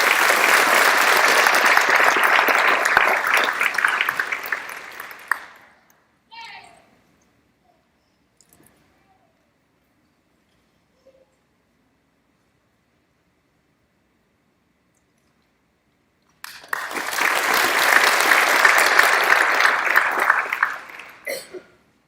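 An audience at a sheriff's office academy graduation ceremony breaks into sustained applause, falls silent for several seconds apart from a stray cough, then erupts into a second full round of clapping.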